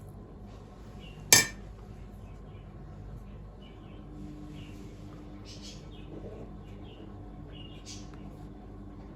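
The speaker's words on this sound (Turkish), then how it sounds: "Böldüğümüz her parçanın içine birer kaşık mercimekli harcımızdan ilave ediyoruz." A spoon gives one bright clink against a dish while lentil filling is added to pieces of dough. Faint kitchen handling noises continue quietly after it.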